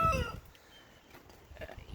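A laying hen in a chicken tractor clucks loudly and close at the start, followed by quieter scratching and faint shuffling from the flock.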